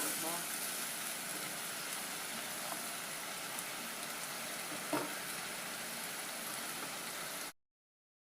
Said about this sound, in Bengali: এবার পেঁয়াজটাকে ভালো করে একটু হালকা, বুঝতেই পারছেন, হালকা গোল্ডেন অবধি ফ্রাই করবো।